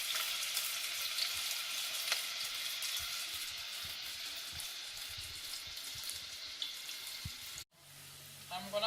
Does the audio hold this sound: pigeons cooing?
no